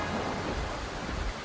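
Heavy rain pours steadily during a severe thunderstorm with strong winds, a dense, fairly quiet hiss with a low rumble of thunder underneath and no voices.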